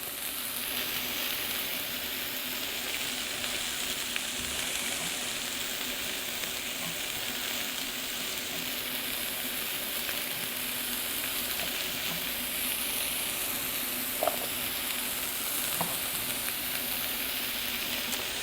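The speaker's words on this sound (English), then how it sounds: "You can hear our mushrooms and onions are cooking away." Steady, loud sizzling of mushrooms and onions frying in a pan, a constant hiss with a few faint pops, no voices.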